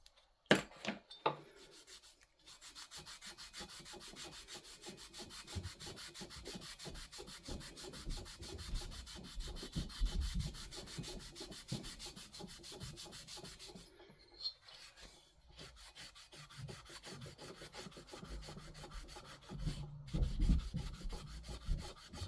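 Engine valves on an 06 Heritage cylinder head are lapped with lapping compound, making a continuous gritty rubbing and grinding in rapid back-and-forth strokes with brief pauses, fairly quiet and close.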